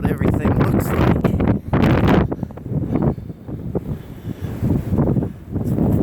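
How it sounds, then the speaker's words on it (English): Strong wind buffets the microphone outdoors on a mountaintop during a blizzard, roaring in loud gusts with surging and easing rhythm while a person talks over it. "it's really windy."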